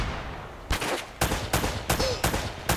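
Gunfire in Uncharted: Drake's Fortune: about five loud, close bursts of rapid shots, each lasting a fraction of a second, separated by short pauses.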